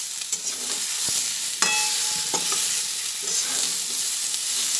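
Mixed vegetables with fried neem leaves are stir-fried in a pan, a continuous close sizzle broken by spatula scrapes and taps, with no talking.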